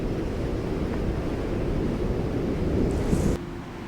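A very strong wind buffets the microphone outdoors in Iceland, a loud continuous roaring rumble with gusty swells that drops abruptly near the end.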